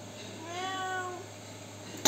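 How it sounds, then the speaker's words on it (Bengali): A cat meows once nearby, a clear drawn-out rising-and-falling call over a quiet background, followed by a short knock at the end. "সে এখানে বসেই ম্যাও ম্যাও করতে থাকবে"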